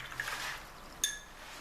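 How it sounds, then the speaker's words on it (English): Watercolour paintbrush rinsed in a pot of water, a brief soft swish of liquid followed by a single light clink of the brush against the container, faint and close. "I'm going to rinse my brush off,"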